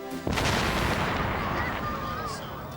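Gunpowder blows up with a sudden loud boom that rolls into a long noisy rumble and fades over a few seconds.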